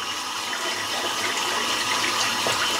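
Tap water runs steadily and loud at close range while a shaving brush is rinsed out under it, a continuous broadband gush with no speech.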